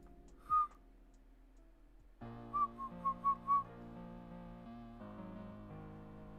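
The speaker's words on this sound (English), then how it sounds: "Practicing my whistling." A person whistles a few short, clear notes, one alone and then several in quick succession, over soft background music.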